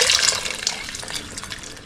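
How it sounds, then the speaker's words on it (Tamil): Water poured into a pot of Jaffna-style odiyal kool, a spicy seafood porridge with crab, giving a close, steady splashing pour that runs without a break and has no voices over it. "இன்னும் ஒரு கொஞ்சம் தண்ணி சேர்க்க வேணும்."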